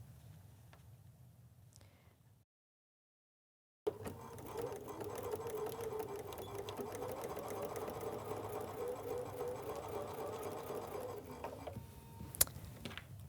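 A sewing machine stitching a quilt seam runs in a fast, even mechanical chatter after a brief silence, close and steady, with a quiet hum before it starts.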